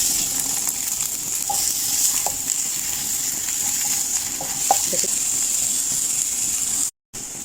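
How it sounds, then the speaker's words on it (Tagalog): Onion and garlic sauté in hot olive oil for chicken wings, a steady loud sizzle with faint stirring clicks, alone and continuous apart from a brief cut near the end. "So, ayan, ilagay ang onion at saka garlic."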